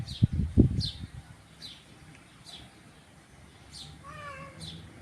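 A cat meows once, a short tonal cry near the end, after a few soft thumps and faint outdoor chirps in a shaded spot.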